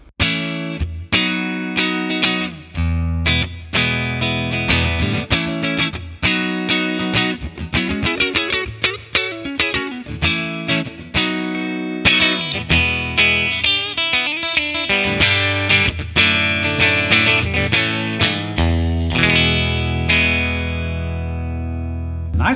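A Telecaster electric guitar played through a 1964 Selmer Treble n Bass 50 amplifier, loud and close, with a run of picked notes and strummed chords ringing with sustain and no talking.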